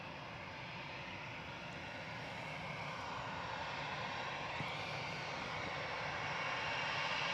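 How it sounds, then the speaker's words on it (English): An EasyJet Airbus A320 Classic jet departing Manchester Airport gives a steady, broad engine roar at a distance that slowly builds in loudness, with no voices. "EasyJet 7270 to Palma de Mallorca going now. OE IVB A320 Classic."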